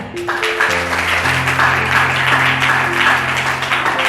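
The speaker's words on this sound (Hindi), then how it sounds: "यीशु के लिए जोरदार ताली बजाए।" A church congregation claps loudly and continuously while sustained keyboard chords ring out underneath, the applause and held musical notes blending at a strong, steady level.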